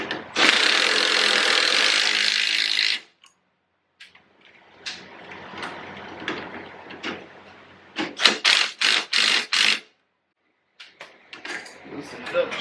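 A wrench loosens a bolt during a 2-inch lift kit install on a Kawasaki Teryx, making a burst of close ratcheting clicks. Sharp repeated clicks and some clatter follow, with gaps of quiet between them.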